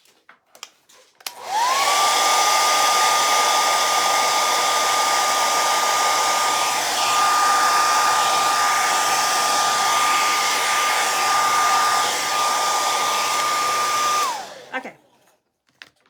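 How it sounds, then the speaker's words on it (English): A hair dryer blows steadily and loudly for about twelve seconds while drying a monochromatic Halloween painting, starting and stopping abruptly, with a brief word spoken near the start. "I'm gonna have to hit it with a blow dryer."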